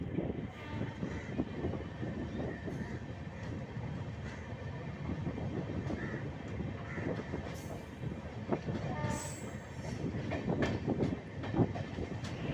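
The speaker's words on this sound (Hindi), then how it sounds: "मधुबनी से निकलते ही इस ट्रेन ने काफ़ी गति पकड़ ली है।" The Bhagalpur–Jaynagar Express running at speed after leaving Madhubani, with a steady close rumble and rhythmic clickety-clack of wheels on the rails, plus occasional higher squeals and rattles throughout.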